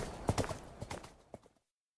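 Horse hooves clip-clop in a short burst of several quick, close strikes that fade out, with no voices.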